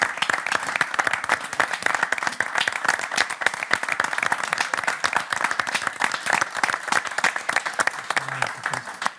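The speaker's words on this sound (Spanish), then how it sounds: "Este aplauso es para ustedes." Sustained crowd clapping honours veterans of the Malvinas War at a televised commemoration: a thick, steady wash of applause from many hands that holds at full strength and only thins slightly at the very end.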